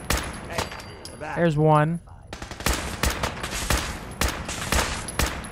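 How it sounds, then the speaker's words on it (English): Bursts of gunfire from combat in Fallout 4 crack in rapid, uneven volleys, with someone talking briefly in the middle. "Because looks like I'm doing all the shooting here."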